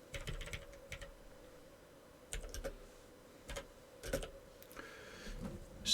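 Quiet, irregular keyboard typing on a computer as benchmark stats are written down, with bursts of rapid key clicks separated by short pauses. The typing is close but low in level, with no talking.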